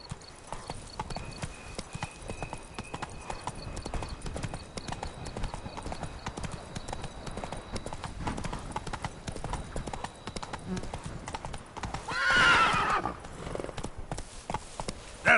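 Roach the horse from The Witcher 3 Wild Hunt gallops in a steady, continuous clip-clop of hooves, with a brief louder whinny or snort near the end.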